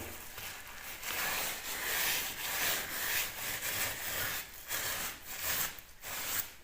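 Rough pine beam is scraped and rubbed to strip off paint stripper, giving repeated close rasping strokes in an uneven rhythm.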